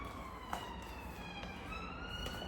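Emergency vehicle sirens wail steadily from outside, a distant, sustained rising and falling tone with no talking over it.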